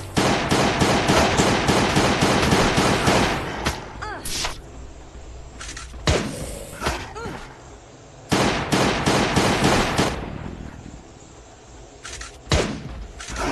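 Bursts of rapid automatic gunfire in a video game shooter, loud and close, coming in several long volleys with short gaps and single shots in between, while a player mutters faintly underneath.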